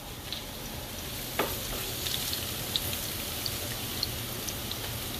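Salmon cakes sizzle softly in a pan while parsley is stirred in, a steady frying hiss with a few light scraping clicks from the utensil.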